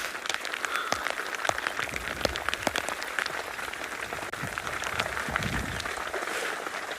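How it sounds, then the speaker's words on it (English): Rain patters on a canvas tent roof at dawn on safari, a dense crackling drum of drops with sharp individual taps, steady and moderately close, with no voices. "sound of the rain hitting the canvas roof"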